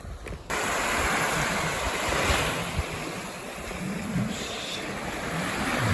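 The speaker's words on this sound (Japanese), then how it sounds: "静かにね波の音だけが聞こえるという感じで、贅沢な空間でした。" Steady ocean surf washing onto a private beach on Hatoma Island, a continuous broadband rush with gentle swells, some wind noise on the microphone, no voices.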